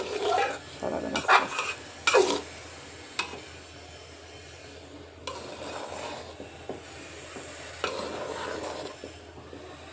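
Bhuna khichuri is turned over and stirred in a pot with a metal spoon, close scraping and clinking bursts early on, then quieter rubbing strokes with faint sizzling between them.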